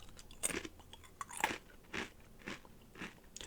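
Cinnamon Toasteez cereal crunched in the mouth, with several distinct bites and chewing crunches spaced through the moment, close and fairly quiet with no talking.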